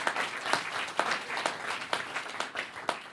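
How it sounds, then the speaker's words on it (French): An audience at a talk claps in a steady, moderately distant wave of applause that lasts for the whole few seconds, with no voices over it. "Je vais vous demander de l'applaudir pour ceux qui ne le connaissent"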